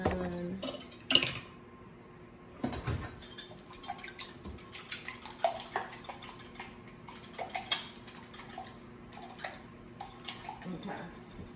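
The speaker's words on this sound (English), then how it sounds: "I'm gonna take my wash here. And I'm going to mix it." Egg wash is whisked in a bowl in a home kitchen, giving light, uneven clinks and scrapes of utensil against the bowl, close and fairly quiet, with soft speech at moments.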